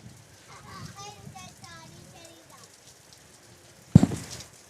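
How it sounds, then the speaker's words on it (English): Heavy rain falls as a steady, soft hiss under faint voice-like tones, broken near the end by one sharp, loud crack. "Jeepers, so much rain."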